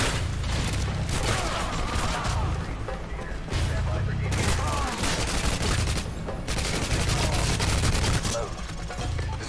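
Rapid automatic gunfire bursts crackle through a Call of Duty: Modern Warfare 2 campaign battle, with booming low-end rumble between volleys and voices shouting amid the shooting.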